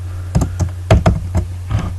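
Keystrokes on a computer keyboard while PHP code is written, about eight distinct clicks in irregular bursts over a steady low hum, close and fairly loud.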